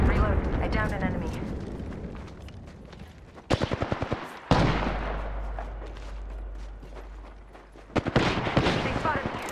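Rapid bursts of automatic gunfire in the Apex Legends battle royale game, loud and close, with sharp shot clusters and a low rumble under a dense game mix, while a voice speaks over it.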